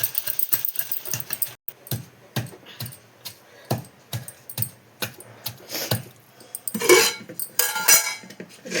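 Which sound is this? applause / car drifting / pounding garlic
pounding garlic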